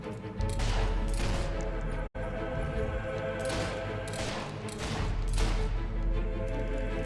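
Rapid gunfire while shooting an enemy in Fable 3, a steady, loud fusillade of shots running almost continuously with one brief cut, and no voices over it.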